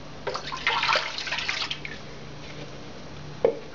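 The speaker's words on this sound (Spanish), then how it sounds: "vamos a agregar la leche" Milk is poured into a large bowl for pizza dough, giving a short splashing, trickling pour that fades into faint drips in a quiet kitchen, with one small knock near the end.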